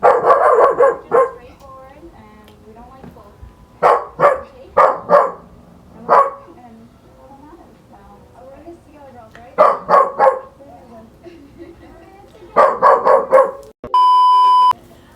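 A dog barks in several short, loud bursts of repeated barks spread across the stretch, with a voice talking faintly between them and a brief electronic beep tone near the end.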